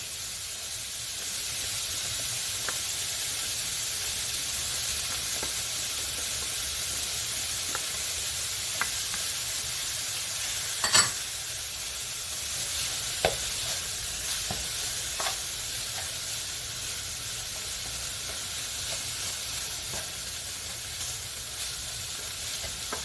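Garlic frying in a hot pan gives a steady, fairly quiet sizzle and hiss that runs through the whole stretch, with a few soft clicks and stirring taps along the way. Nobody speaks.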